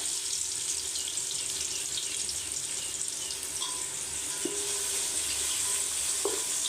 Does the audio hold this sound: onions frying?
yes